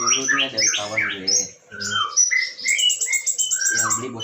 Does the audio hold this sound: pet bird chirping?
yes